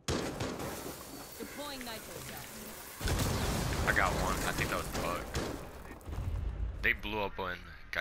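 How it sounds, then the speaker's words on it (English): A grenade explodes in Rainbow Six Siege with a sudden, loud broadband burst midway, followed by rumbling aftermath, while players talk throughout. "Almost got blew up by a grenade"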